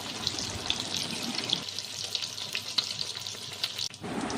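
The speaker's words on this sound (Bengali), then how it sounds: "আর মিডিয়াম ফ্লেমে এটা ভেজে নেবো আমি ভালো করে।" Laccha egg pakora frying in a pan over a medium flame, giving a close, steady sizzle with fine crackles and sputters throughout and no voices.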